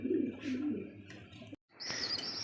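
Pigeons in a pigeon market, with squabs being fed by their parents: low cooing and chirping murmur close by for about two seconds, broken by a brief silent cut.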